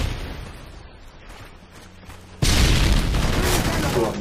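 Loud, dense explosions and gunfire from the video game Modern Warfare 3 erupt suddenly after a quieter stretch of distant battle noise and sustain as a heavy roaring barrage.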